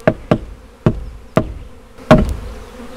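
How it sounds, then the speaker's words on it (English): Many bees clustered on the lid of a bee package, with a low insect hum under five sharp, loud knocks spaced about half a second apart as the lid is tapped. "But you can see lots of bees festooning there on this lid"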